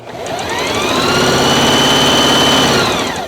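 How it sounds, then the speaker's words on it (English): A sewing machine stitches fabric with a steady, continuous mechanical whir that rises at the start, holds evenly at a loud level for about three seconds, then eases off at the end. "let's try out the machine and see if it'll stitch"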